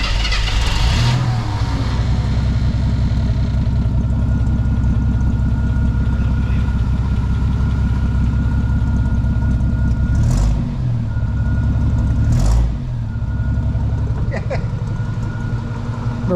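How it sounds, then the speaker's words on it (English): An AMC Eagle Wagon engine with a new exhaust idles with a deep, throaty burble, steady and loud, with a couple of brief revs partway through. "We got this exhaust on it."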